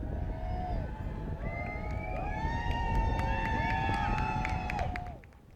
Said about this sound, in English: The crowd greeting the convoy, believed to be carrying Eden Alexander, as it passed through a kibbutz near the Israeli-Gaza border